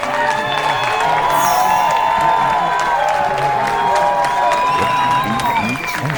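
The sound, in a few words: hometown crowd applauding a PBA bowling title win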